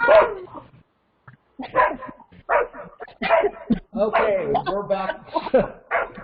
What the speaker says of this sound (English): Barking dogs and all.